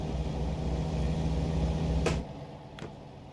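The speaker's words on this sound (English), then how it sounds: "I think it's got nicer brakes on it than I thought it did. We did just a little bit of a panic stop there." An American Truck Simulator truck's engine drones steadily up close, then a sharp hiss of air brakes cuts in during a hard panic stop and the rumble drops away, with a second brief hiss after.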